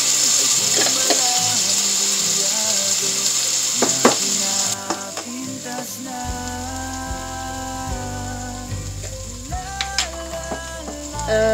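Garlic and black bean paste frying for a chicken feet dish, a steady close sizzle broken by clicks and scrapes of stirring, with a humming tone running underneath.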